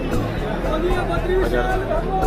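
Crowd of pilgrims at Badrinath temple, a dense steady hubbub of many overlapping voices and chatter filling the whole stretch at close range.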